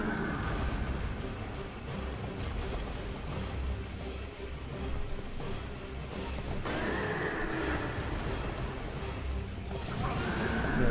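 Horse neighing in the video game Dark Souls 2, a loud, steady whinnying boss noise layered with combat clatter and crashes, continuous throughout with occasional sharper impacts.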